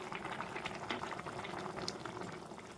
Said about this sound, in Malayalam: അപ്പോൾ ചിക്കൻ അവിടെ കിടന്ന് തിളക്കട്ടെ